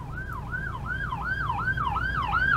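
A wailing ambulance siren rises and falls in a steady repeating cycle over low traffic rumble, fairly close and clear.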